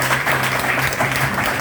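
Church congregation clapping during an evening service, a loud, continuous burst of applause filling the short moment, steady and dense with a low hum beneath it.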